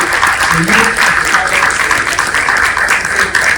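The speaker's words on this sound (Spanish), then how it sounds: "denles un aplauso a ustedes mismos" Audience applause fills a talk event, steady and loud from start to finish, with a voice cutting in briefly over the clapping.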